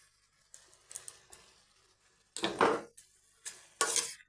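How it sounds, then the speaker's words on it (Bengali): A spoon stirs fried sesame seeds into a vegetarian bottle gourd curry in a cooking pot, giving a few close, short clattering scrapes against the metal with quiet gaps between them and no talk. "এই তিলটা আমি মিশিয়ে দিচ্ছি এখন"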